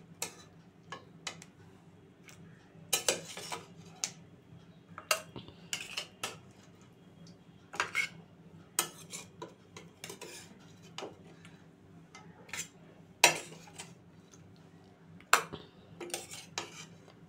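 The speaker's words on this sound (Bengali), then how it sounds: "কই মাছগুলো সার্ভিং বলে নামিয়ে রাখছি।" Cooked koi fish curry (kalia) being moved into a serving bowl, heard as scattered clinks and scrapes of utensil against dish over a low steady hum, with irregular sharp taps spread throughout.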